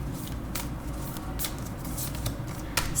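Oracle cards shuffled and drawn from an animal spirit guide deck, a soft continuous papery riffle with a few brighter flicks as cards slide and snap, close and steady, with no talking.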